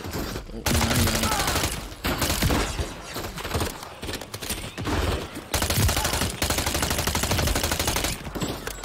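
Heavy gunfire in Call of Duty Modern Warfare III erupts in loud, dense bursts with sharp shots and breaking-glass crashes over nearly nine seconds, with brief pauses and voices occasionally under the shooting.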